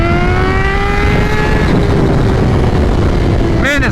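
Loud, close engine roar of a 2021 Kawasaki Z H2 motorcycle, flashed to about 240 wheel horsepower, pulling hard in second gear with rising harmonic whine throughout, ending in a brief shift or blip.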